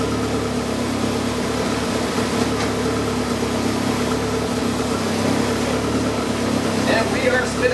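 A 1983 Volkswagen Rabbit GTI engine runs steadily on a dyno in gear with the wheels spinning, a constant mid-level drone with harmonic hum throughout and no change in intensity.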